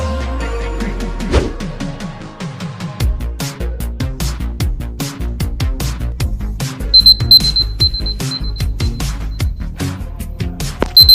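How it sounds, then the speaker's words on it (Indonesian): A stopwatch timer being set for ten minutes during a diffusion and osmosis lab experiment with a tea bag in hot water gives rapid, repeated button clicks, then a run of short, high electronic beeps near the end, loud and close. "Sehabis ini pasang timer 10 menit di stopwatch."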